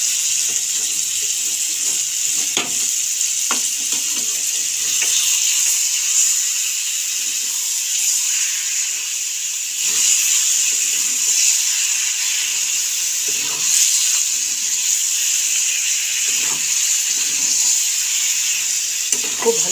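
Marinated meat going into a pan of well-fried, oil-releasing spiced masala, giving a steady close sizzle with intermittent stirring scrapes and clatter throughout.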